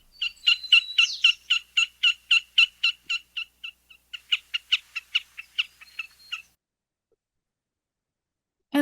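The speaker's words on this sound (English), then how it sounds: "As well as their keck, keck, keck kind of squeaky wheel call." Wilson's snipe in a prairie marsh gives a rapid series of sharp keck notes, about two dozen in a steady rhythm that slows and fades before stopping; no one talks.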